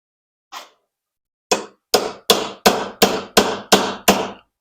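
Hammer blows on steel motor cradle bushings during a B200RSV install: one lighter tap, a pause, then eight loud, evenly spaced metallic strikes close by, with no talking.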